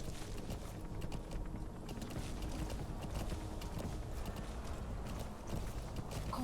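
Horse hooves clip-clopping at a steady pace in the video game Metal Gear Solid V: The Phantom Pain, a continuous rhythmic pattern at moderate level under faint game background sound.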